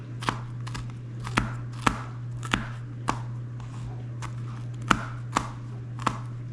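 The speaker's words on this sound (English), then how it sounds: "I like to kind of cut all my veggies first" Steady, evenly spaced knife chops through vegetables on a cutting board, about ten sharp taps close by over a low constant hum.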